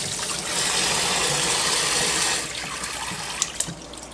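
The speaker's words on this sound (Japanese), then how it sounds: "洗っていきます" Abalone rinsed under a running tap, a loud, close rush of water that eases after a couple of seconds, followed by a few sharp knocks as the shellfish is handled.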